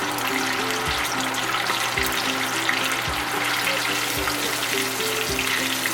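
A blooming onion fries in oil with a loud, even sizzle and bubbling that holds for the whole stretch, under a faint low hum and with no talking.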